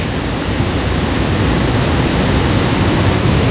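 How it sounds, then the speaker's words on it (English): A roaring waterfall in Scotland, a loud steady broadband rush of falling water filling the scene without pause, with no voices. "I do love a roaring waterfall."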